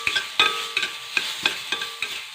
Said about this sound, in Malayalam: നല്ലോണം അരി ചൂടായി പൊരിഞ്ഞ് വരണം.